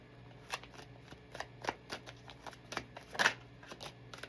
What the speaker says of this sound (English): I seen that while shuffling.